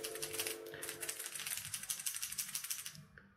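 Metal rattle balls in a Bearking Rerange 110SP wobbler fishing lure with a magnetic long-cast system, shaken in a rapid run of dry clicking ticks for about three seconds, close and fairly quiet.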